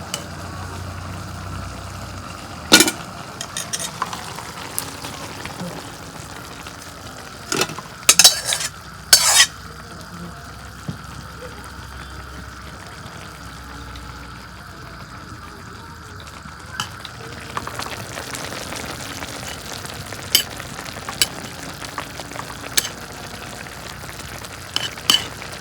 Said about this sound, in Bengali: বেগুন কষানো হয়ে গেছে, এখন আমি মাছ দিয়ে দিব।